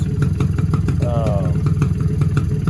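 A small two-stroke Polaris 90 four-wheeler engine runs close and loud with a steady buzzing, clattering idle and a brief rise in pitch partway through, with faint voices underneath.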